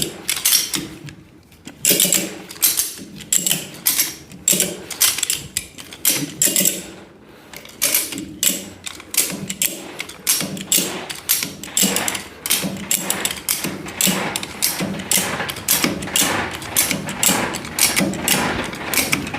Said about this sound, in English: So now I'm going to try ratchet strap. See if I can pull it up the rest of the way on the lift.